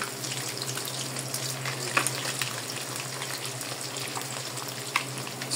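Fish fries in a pan, giving a steady, dense sizzle that carries on throughout at close range, with a few small crackles and pops. No voices are heard.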